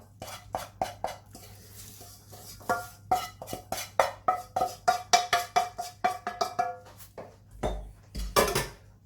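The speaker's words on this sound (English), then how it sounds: "Make sure you've stirred until you can see that all the butter has been absorbed by the biscuits." A spoon stirs melted butter into crushed biscuit crumbs in a bowl for a cheesecake base, giving a quick run of close clinks and scrapes against the dish that speed up into a steady rhythm before a final louder knock.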